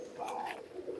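Black pigeons at a high-flying pigeon loft give soft, low cooing calls, fairly close, with a few faint chirps and no talk over them.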